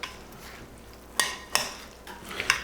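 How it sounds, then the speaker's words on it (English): Salsa is tossed in a bowl with lime juice, soft scraping and a few sharp clinks of a utensil against the dish, quiet and close with no talking. "Give it a quick toss."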